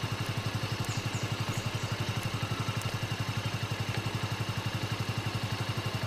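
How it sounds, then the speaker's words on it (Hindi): A Bajaj motorcycle engine runs with a steady, even low thump, fairly close, with faint background noise and no talking. "अच्छा जी, बजाज की बाइक आ रही है,"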